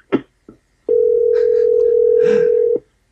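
A telephone dial tone after a hang-up, a steady loud hum lasting about two seconds, preceded by brief clicks and ending abruptly.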